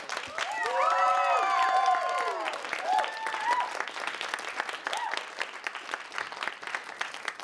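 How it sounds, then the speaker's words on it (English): An audience at the Frontier Fest 2022 improv show applauds the festival crew with loud, sustained clapping, plus some whistles and cheers near the start, before the ovation thins out. "give just one giant thank you and applause to our crew who's worked every show"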